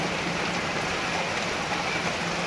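Steady April rain falls in a dense, even hiss of drops on surfaces that holds constant throughout, with no voices.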